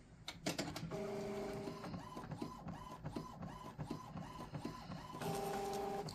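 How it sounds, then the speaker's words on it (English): An Epson ET-7700 printer printing a photo, whirring and clicking through a steady repeating mechanical cycle with feed and carriage sounds, close but quiet, no talk. "And we go off to the printer."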